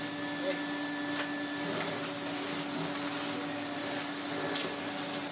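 An AEG Compact Electronic 406 vacuum cleaner runs on carpet, its motor a steady, loud whine with a slightly rumbly tone and a few brief clicks and scrapes from the brush head.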